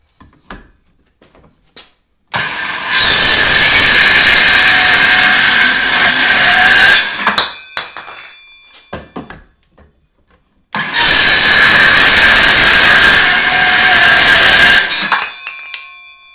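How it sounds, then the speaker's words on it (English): Porter Cable MAX 20-volt cordless circular saw cutting wood in two loud, sustained passes of several seconds each, the high whine spinning up and winding down around each cut, with short handling noises between. "Here's one of my favorite tools, the circulating saw."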